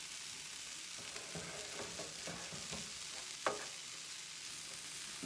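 A pork stuffing mixture is stirred and scraped around a hot pan, with a steady sizzle underneath and a run of soft scraping strokes, one sharper clack near the middle, no voices.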